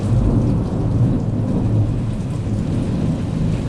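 A thunderstorm brings steady rain and deep rolling thunder that rumbles continuously, heard outdoors in an urban setting with no talking.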